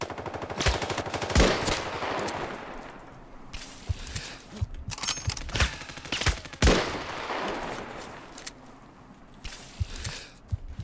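Submachine gun fire in the video game Islands of Nyne, with repeated rapid bursts and single shots spread across the stretch, close and punchy, with quieter moments between volleys.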